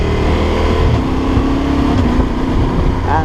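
A Yamaha Tenere 700 motorcycle downshifting through the gears with an automatic blipper, the engine droning loudly and close with short rising revs between shifts, no voices.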